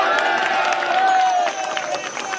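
An audience claps and cheers steadily after a combined angklung performance by two groups at a temple event, a dense, even wash of applause that holds throughout.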